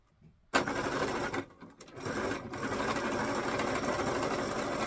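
A sewing machine stitches boning onto a special occasion hat, starting abruptly with a steady, close mechanical whir, breaking off briefly, then running on continuously.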